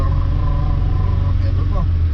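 A BMW E36 316i with the M40 engine runs under throttle with a steady, loud low rumble, near and continuous, while someone talks over it throughout.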